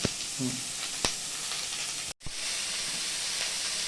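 Crab curry masala with tomato and coriander frying in oil, a steady close sizzle and hiss with occasional stirring knocks and a brief dropout midway.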